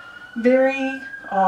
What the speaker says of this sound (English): So we're just gonna have the sirens in the background for a minute.